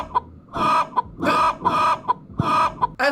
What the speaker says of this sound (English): I like the chicken noise he uses for the suspect's gun.